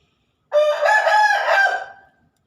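A single loud rooster crow, close and clear, rising and holding for about a second and a half against silence.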